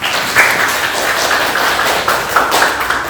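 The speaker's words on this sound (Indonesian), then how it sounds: "kita tepuk tangan dulu ya." Steady group clapping fills the space, dense and continuous, with a few sharper louder claps standing out, right after children in a classroom perform a traditional dance.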